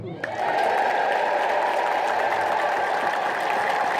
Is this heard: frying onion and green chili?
no